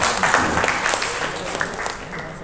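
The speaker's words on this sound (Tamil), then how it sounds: "அவங்களாவது கைத்தட்டினாங்க அதுக்காக." Audience clapping at a film event, a brief, steady patter of many hands heard fairly close and filling the whole moment.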